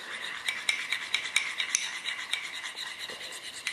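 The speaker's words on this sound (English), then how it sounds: "mix all the paste in well" Garlic being stirred and worked into a butter paste, a steady rasping, scraping rhythm of utensil against bowl, close and fairly quiet, with no talking.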